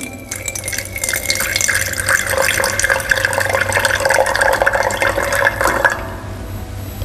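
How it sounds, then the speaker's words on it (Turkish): Water poured into a glass jar during a rain-making science demonstration, a steady bright splashing and filling rush lasting about six seconds, then stopping abruptly. "Şimdi önce berglasın içine 1-2 santim kalınlığında su ekleyelim."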